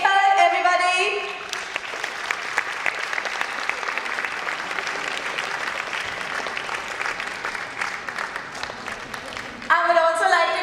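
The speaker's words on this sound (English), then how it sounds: "welcome him with a huge round of applause" An audience at a dance institute event gives a long, sustained round of applause lasting several seconds. A presenter's voice sits briefly before and after it.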